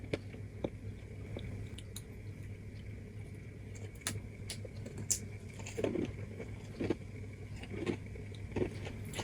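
Close, wet crunching and chewing of fried chicken ice cream, irregular bites with soft smacking sounds, no speech.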